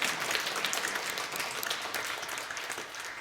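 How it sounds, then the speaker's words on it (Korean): Congregation at a church service breaks into sustained applause, a dense, steady wash of many hands clapping throughout, moderately loud with no voices over it. "박수로 하나님께 영광을 올려드리겠습니다."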